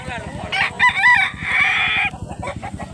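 A white leghorn rooster, about ten months old, crows at a poultry sale in Domanjug, Cebu; one loud, drawn-out crow rises and holds over a steady low rumble of background noise and voices.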